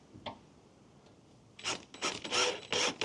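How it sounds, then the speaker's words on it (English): An open-end wrench tightening a bolt on an outdoor chaise lounge chair, a quick series of close ratcheting, scraping metal clicks after a near-silent start. "With an open end wrench, optional, lock into place."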